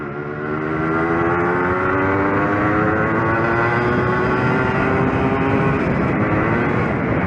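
A Yamaha RX 100 two-stroke motorcycle accelerates hard in a drag run, its loud, close engine climbing steadily in pitch through the gears with a buzzy, continuous roar and no talk.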